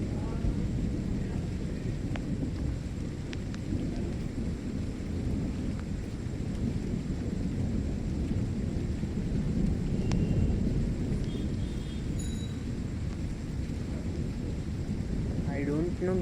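Thunder rumbles low and continuously without a break, over the steady hiss of falling rain, with faint voices in the background.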